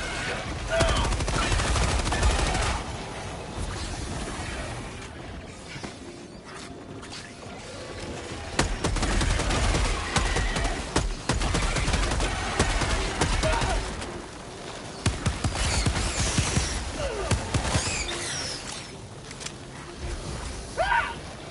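Enemy gunfire in the co-op shooter HellDivers: a long stretch of loud, rattling automatic bursts and scattered shots from several directions, with a voice occasionally heard over the din.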